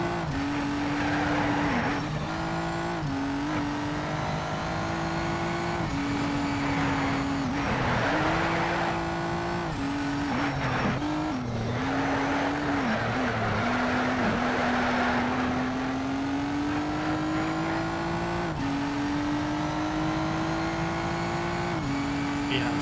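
A race car engine echoes through a tunnel in Need for Speed: Shift, droning loudly and continuously as the revs climb and dip with gear changes, with occasional tire squeal.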